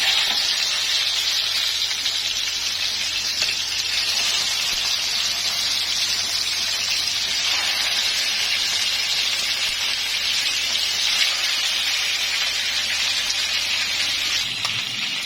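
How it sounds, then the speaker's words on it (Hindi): Chicken pieces for chicken paprika fry in a pan, producing a steady, close, hissing sizzle that holds evenly for about fifteen seconds with no voices. "बकाया पीसीस भी फ्राई कर लेंगे।"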